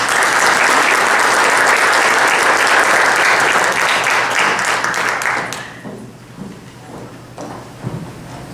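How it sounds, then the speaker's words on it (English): A packed room at a UW-Eau Claire ALD-PES honor society induction ceremony breaks into loud, dense applause that holds steady and then fades quickly into a quiet hall with a few last claps. "Let's give them a round of applause."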